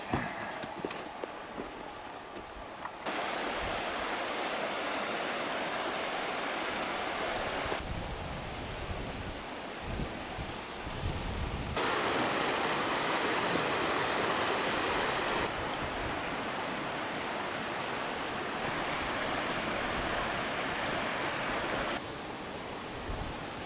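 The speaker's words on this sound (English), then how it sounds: "This little spring right here, pretty much like the lifeblood of the Blues." A small mountain spring in Washington's Blue Mountains flows in a steady, rushing hiss of water that stays constant throughout, shifting slightly in loudness as the listening position changes.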